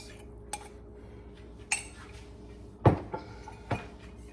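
Pot roast being served from a pot into a bowl, with a few sharp clinks and knocks of a utensil against cookware, spaced irregularly and fairly close.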